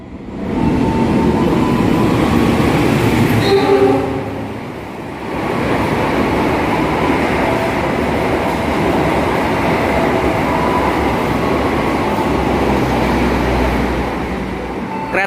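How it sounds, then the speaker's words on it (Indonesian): The Argo Muria passenger train runs straight through Jatibarang station without stopping, a loud, close, steady rushing rumble that briefly dips before roaring on. "Kereta api Argo Muria sudah melintas langsung stasiun Jatibarang."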